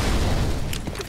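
An incendiary grenade going off in an online multiplayer shooter: a dense, loud rumbling burst that fills the short clip, thinning out toward the end.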